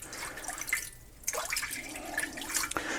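Water added to a dirty cast iron pan, with soft splashing and dripping plus a brief sizzle-like hiss, fairly faint and close, with no talking.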